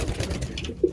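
Pigeons coo softly in a loft, a low murmuring call rising briefly near the end against a quiet, close background.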